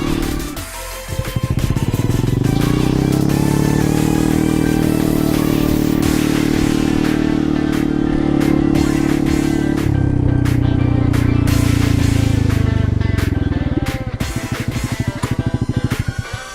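A 2018 Honda Beat Hybrid scooter, custom-built, being ridden: a loud, steady engine drone that holds for most of the stretch, then eases off near the end amid clattering and wind noise, with no talking.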